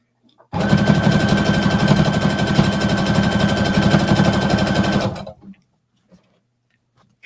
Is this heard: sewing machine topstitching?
yes